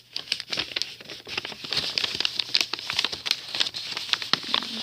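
A sheet of paper crinkles and rustles close up as it is creased and folded into a paper airplane, with steady crackling handling noise and small taps running throughout and no speech.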